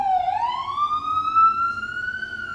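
An ambulance siren passing close by, one loud, clear, sustained wail sweeping slowly upward in pitch over a faint low background rumble.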